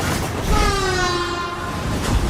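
Trains pass through a game level, some running in different directions and some upside down, heard as a steady, loud rumble with a sustained horn-like tone that slides slowly downward as a train goes by.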